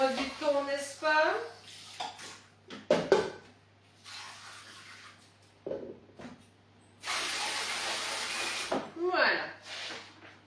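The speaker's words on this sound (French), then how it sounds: "Un petit coup de vaisselle, un petit coup de propre, ça fait pas de mal." Washing up dishes in a home kitchen while baking pistachio-raspberry financiers: light clinks and knocks of utensils, then a few seconds of running tap water spraying close by, with someone talking at the start.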